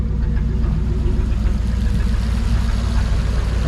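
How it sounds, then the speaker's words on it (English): A 1940 Mercury engine that has sat unused for a long time runs rough and misfires, a steady close-up low rumble with uneven pulsing throughout, with no talk over it. "Well, it's definitely misfiring."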